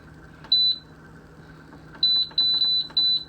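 An electric pressure cooker switched on for a batch of applesauce gives four clear electronic beeps: one short tone, a pause, then three longer tones in quick succession over faint room noise.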